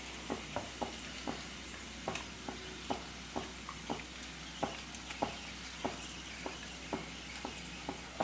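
Spicy ground paste with garlic sautéing in hot oil, a continuous close sizzle with regular soft ticks and scrapes of stirring throughout, no voices.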